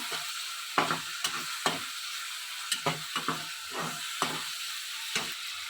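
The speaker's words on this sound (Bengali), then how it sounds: "এবার একবার নেড়ে দেবো।" Chicken roast masala with chili powder and roasted cumin powder is stirred in a pan, giving a series of sharp, irregular scraping strokes over a low, quiet sizzle, close to the listener.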